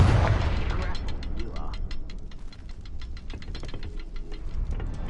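A Confringo fire spell goes off in the Hogwarts Legacy game with a loud blast at the start, then a rattle of clicking, ticking mechanical noise and crackle that carries on steadily to the end, with no one talking.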